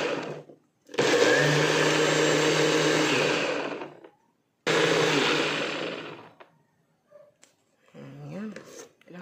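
A blender whirs loudly in two long bursts with a short pause between as a smoothie is blended, followed by softer clinks and a brief voice near the end.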